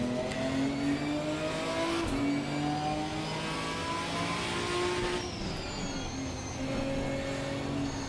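Race car engine in the Assetto Corsa Competizione racing game, a GT4 car, revving steadily and loudly with rising and falling pitch as the throttle is feathered, with a gear shift partway through and no talk.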